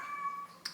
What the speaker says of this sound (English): That's my cat just meowing for no reason